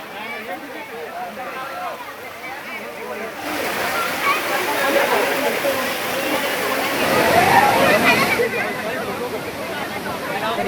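Steady rushing roar of the Amboli waterfall at Kavale Saad point, with crowds of tourists gathered nearby; the broadband water noise swells louder midway and stays continuous throughout, with indistinct crowd voices mixed in.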